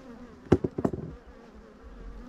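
Honeybees from four colonies buzzing around their hives in an apiary: a low, steady insect drone underneath, with a few louder, brief passes close by.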